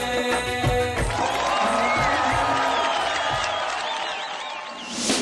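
An audience in a Hindi comedy TV serial claps and cheers, mixing sustained applause, whoops and crowd noise over light background music, with the clapping fading gradually toward the end.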